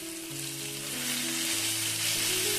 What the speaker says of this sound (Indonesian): Kalau sudah panas langsung aja kita tumis bumbu yang sudah kita haluskan tadi.